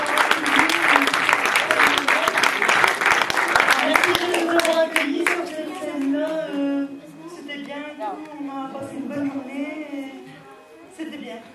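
A festival audience applauds in broadband clapping that fades after a few seconds, with a voice and music-like tones overlapping as the clapping thins.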